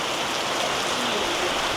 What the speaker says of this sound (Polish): Akurat pada deszcz